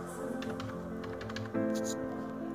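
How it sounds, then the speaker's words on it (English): Keys tapped rapidly on a Logitech K480 Bluetooth keyboard, a close, quiet run of light plastic clicks in an uneven typing rhythm with no talking. "I will type something in MS Word."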